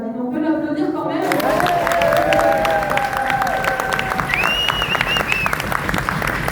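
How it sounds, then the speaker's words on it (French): Studio audience on a French television game show applauds after a contestant is eliminated at the end of a round, with steady clapping throughout. "On peut l'applaudir quand même."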